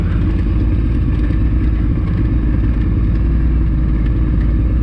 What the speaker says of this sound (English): So, just in first gear, engine braking.